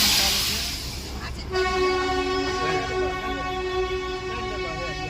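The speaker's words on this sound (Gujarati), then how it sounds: "જો આ જોઈ શકો છો ટ્રેન પણ ચાલે છે" A train on a hill railway in Darjeeling rumbles along with a loud, sustained horn blast kicking in partway through, tonal and droning over the steady clatter of the cars.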